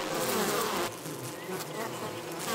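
A bee buzzes steadily in flight near its hive, a dense, continuous drone that holds close and fairly loud for a couple of seconds with no voices.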